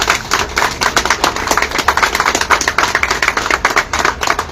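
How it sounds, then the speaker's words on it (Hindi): Applause at a Suzuki car unveiling in a showroom in Neem Ka Thana, a dense patter of many hands clapping quickly and steadily, close and fairly loud. "जोरदार तालियों से स्वागत किया जाए"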